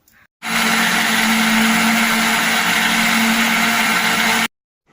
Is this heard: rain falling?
no